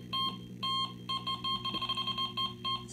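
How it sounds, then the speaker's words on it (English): A Delkim TXI carp-fishing bite alarm fitted with a Fox illuminated swinger beeps in quick bursts, clear and close, at first evenly spaced and then a faster run of beeps, with no talking. "Plug it in, turn on the alarm, boom, and now it works."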